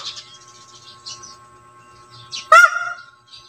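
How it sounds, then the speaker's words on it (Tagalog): A peacock lets out a single loud, honking call near the end, rising then falling, with faint chatter from other birds before it. "Peacock yata to."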